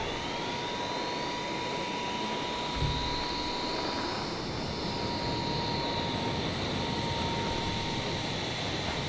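Twin jet engines of a MiG-29 Fulcrum idling on the ground in Microsoft Flight Simulator 2020, a steady, loud broadband roar with a thin high whine that holds constant throughout.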